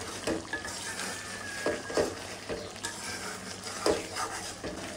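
Deshi shing and magur fish cooking in a covered pan for curry, a steady frying sizzle with intermittent clatter of a utensil against the pan.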